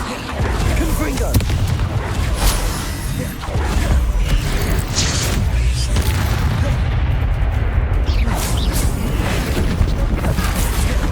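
Hogwarts Legacy combat brings a Confringo fire spell blast amid repeated booms, crackles and mechanical clatter. The noise stays loud and continuous over several seconds, with brief quieter dips and no talking.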